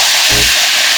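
Sauce poured into a hot, oily pan of spam slices over medium heat hisses into a brief loud sizzle, broadband hiss with a low rumble lasting under a second.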